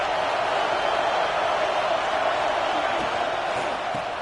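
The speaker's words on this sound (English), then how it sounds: "This crowd bringing an ear-splitting welcome to their visitors." A loud football stadium crowd roars without pause at a Florida vs Iowa State game, a dense, unbroken wall of cheering that fills the whole space.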